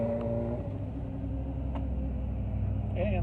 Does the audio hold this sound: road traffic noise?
yes